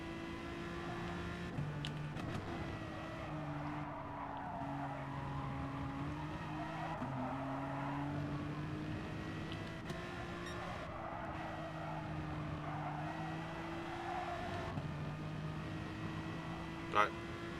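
Race cars pull away at a race start in a sim racing game at the Red Bull Ring, with engine tones climbing and stepping through gear changes and a sharp click near the end. A voice talks over them.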